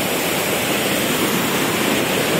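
Aliwagwag Falls thunders with rushing water in a loud, steady, unbroken roar that fills the whole moment, with no voices.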